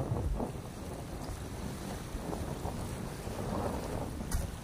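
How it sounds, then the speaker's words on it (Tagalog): Strong wind buffets the microphone in a constant rushing roar, with a low rumble of water or a boat beneath it. "Lakas ng hangin, kitang-kita nyo, guys."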